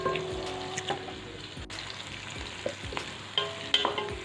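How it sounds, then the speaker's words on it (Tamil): Onions sauté in oil for a Tamil brinjal thokku, a close, steady sizzle with irregular clicks and scrapes of a spoon stirring against the pan. "வெங்காயம் இந்த பதத்துக்கு வதங்கினா போதும்"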